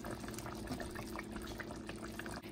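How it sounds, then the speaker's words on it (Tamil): A pot of chicken biryani boils steadily, a continuous bubbling, rushing liquid sound heard close and alone. "10 minutes ஆயிடுச்சு, நல்லா கொதிச்சிட்ருக்கு"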